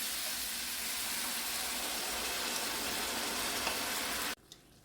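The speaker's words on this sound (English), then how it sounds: "I'm going to add in the tomatoes with the juice." Tomatoes with their juice hit a pan of andouille sausage, giving a loud, steady frying sizzle that runs unbroken for several seconds and then cuts off abruptly near the end.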